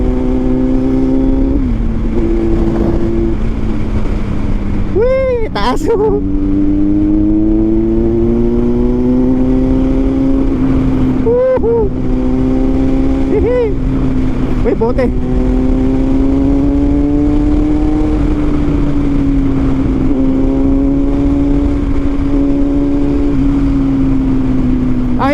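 A Kawasaki Z900 motorcycle exhaust while riding on a curvy road, a loud continuous engine drone with repeated rising and falling revs and gear changes, close and sustained throughout, with brief speech from the rider.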